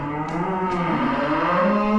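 Hungry cattle lowing inside a farm shed, a continuous layered chorus of deep moos from several animals close by, filling the whole stretch without any talk.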